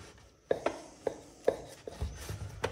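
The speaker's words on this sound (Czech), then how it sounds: "Takže nakrájím si takhle chleba." Bread being sliced with a knife on a board at home, a series of soft, distinct crunching cuts and taps at irregular intervals, close and quiet with no talking.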